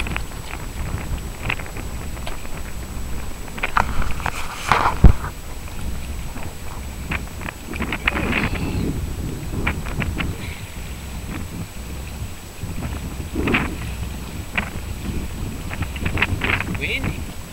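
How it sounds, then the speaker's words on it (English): Gusty wind buffets the microphone outdoors at Lake Tahoe in summer, a steady rushing roar with louder bursts, while people talk now and then over it. "Windy."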